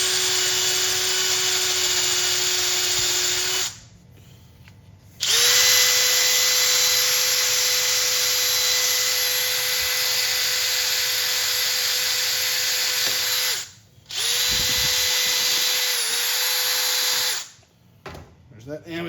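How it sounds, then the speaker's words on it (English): A power drill with a wire brush whines at a steady high pitch in long runs while cleaning a copper bar, stopping briefly a few times before starting up again. "you're looking for the wire brush on your screwdriver or your drill"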